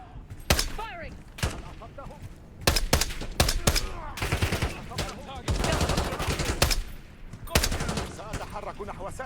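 Bursts of machine gun fire in Call of Duty: Black Ops 6, several loud volleys of varying length with short gaps between them, mixed with clattering action sounds and some background voices.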